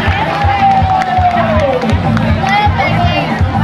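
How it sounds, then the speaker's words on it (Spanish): Audience applause and crowd noise for the ten-year-old girls of the Garifuna dance group Así son ellas, a dense, steady roar with a whistle-like tone gliding downward and voices mixed throughout. "Fuerte el aplauso para ellas."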